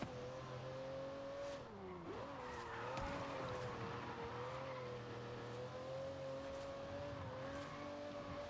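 A car in Forza Horizon 5 slides and skids on the road, its engine droning steadily while tires squeal and screech in a sustained, wavering whine, fairly quiet overall with no talk.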